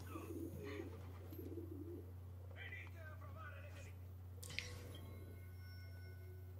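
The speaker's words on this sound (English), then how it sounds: "Birds." Pigeons cooing softly in Assassin's Creed II, low repeated coos over a steady hum of game ambience, with a brief sharp click near the end and no talking.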